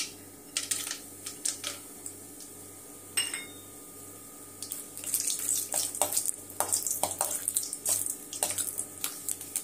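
Mustard seeds and peanuts sizzling in about three spoons of hot oil for tomato chitranna: scattered sharp pops and crackles that grow busier and louder over a low steady hum.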